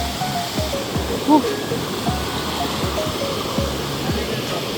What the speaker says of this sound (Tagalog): Kawanayan Falls.